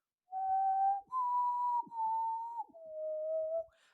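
A person whistles an imitation of the four-note Mockingjay signal from The Hunger Games, the clear pure tones stepping between pitches, close and alone with no talking.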